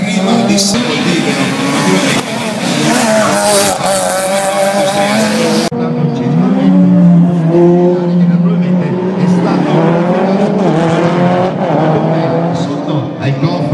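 A car with a rear-mounted 1600 cc engine runs at a motor show, its loud engine note rising and falling in sweeping revs while a voice talks over it.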